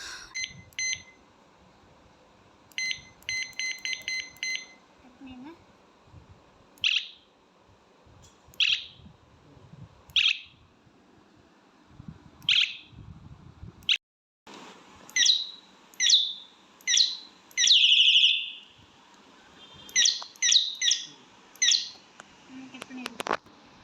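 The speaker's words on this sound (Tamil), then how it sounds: "அது மாதிரி ஹார்ன் வந்து நல்லாவே நிறைய ஒரு சவுண்ட்ஸ்லாம் நிறையவே வருது" An electronic horn on a bicycle cycles through chirpy, birdlike beeping sound effects in repeated short bursts, close and fairly loud. Someone speaks between some of the sounds.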